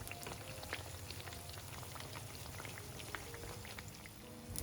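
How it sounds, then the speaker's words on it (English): Pork and shrimp meat spread on bread frying in cooking oil until golden brown, a steady dense crackle and sputter with scattered sharp pops, close and even throughout. "Please fry it until the meat turns golden brown."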